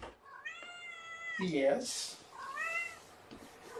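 Kittens meow in short high rising cries, a couple of clear calls close by, while a person speaks softly over them.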